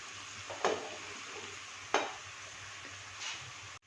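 Onions and white cumin frying in a pan over medium-low flame give a steady soft sizzle, broken by a few sharp stirring scrapes of a spoon against the pan.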